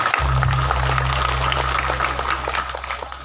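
An audience claps for the youth group at a lively Sundanese community gathering, a steady wash of scattered hand claps over a droning musical tone that fades slightly toward the end.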